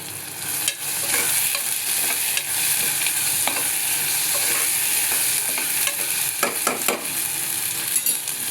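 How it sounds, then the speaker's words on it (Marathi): Spices frying in a pan while being stirred, a steady close sizzle broken by scraping spoon strokes and a few light clinks, loud and continuous throughout. "आणि थोडं हलवून घेऊया आपण."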